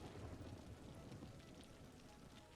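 Rain in the Cities: Skylines video game, a steady faint patter of falling rain with a soft low rumble underneath, continuous and even throughout.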